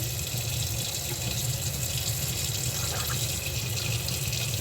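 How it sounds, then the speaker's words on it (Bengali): Water from boiling green bananas is poured off in a steady, continuous splashing rush that stays close and fairly loud throughout, with no voices. "পানিটা ফেলে দিচ্ছি।"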